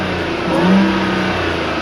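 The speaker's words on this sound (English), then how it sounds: "It's got the supercharger on it, which after I put this cold air intake, it whines like crazy" Supercharged Audi A6 3.0T V6 fitted with a cold air intake revs, its engine roar swelling and easing with a steady supercharger whine running through it.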